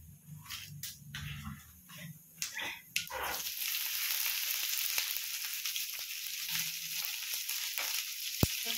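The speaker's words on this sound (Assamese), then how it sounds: "ইপিনে তেলত দি দিছে শুকান জলকীয়া আৰু কালজিৰা আৰু পিঁয়াজটো ধুইলে" Dry chili, nigella seeds and onion fry in hot oil, a close hissing sizzle that rises after a few seconds of clattering and low background voices, then holds steady with occasional clicks.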